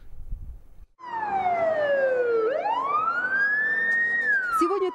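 A fire engine's siren wails loud and close as the crew heads out on a call, sweeping down and then back up in long wavering cycles after a brief quiet start.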